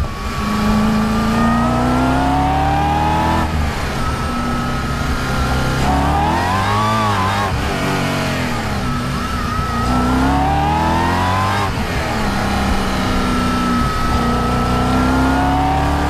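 A supercharged Stage 3 Audi RS4 accelerates hard through the gears, its engine note climbing in loud, sustained sweeps with brief dips at each shift, heard close from inside the car.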